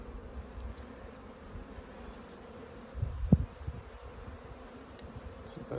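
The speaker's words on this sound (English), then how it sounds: "If it's not more bees, they're louder than they were last week." Honey bees buzzing around an open hive during an inspection, a soft, steady low hum throughout, with a brief louder rustle or bump near the middle.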